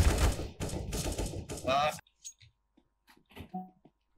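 Rapid bursts of gunfire from the video game CS:GO crackle loudly in quick clusters for about two seconds, then give way to sparse faint clicks and small game sounds.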